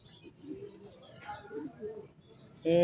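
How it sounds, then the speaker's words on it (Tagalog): Soft pigeon cooing and faint chirps close by, with low murmuring voices, ending in a sudden louder burst of noise. "mga Stanley Boy, para makatuka na yung aking mga kalapati"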